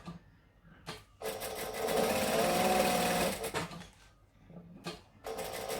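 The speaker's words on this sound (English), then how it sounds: "I'm chain stitching them to save time and thread" A sewing machine chain stitching fabric runs in a steady, fast mechanical whir for a couple of seconds, then in shorter bursts separated by pauses, close and fairly quiet.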